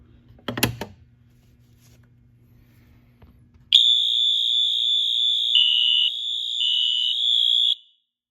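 An Edwards single action fire alarm pull station is pulled with a short clack, and after a quiet pause a loud, steady electronic alarm tone blares for about four seconds, its pitch shifting slightly, before cutting off abruptly.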